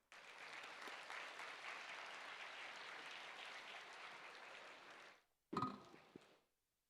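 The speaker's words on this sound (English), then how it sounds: "Please give a huge round of applause." Audience applause at a defence symposium during a university tech festival, a steady broadband clapping that runs about five seconds, stops, then gives way to a brief burst of louder, closer handling or clapping noise at the end.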